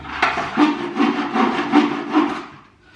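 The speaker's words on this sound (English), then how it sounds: "I can't bear any more sawing." A hand saw rasps back and forth through wood in about five steady strokes, close and loud, with no talking.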